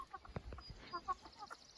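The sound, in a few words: chickens clucking while eating spinach and lettuce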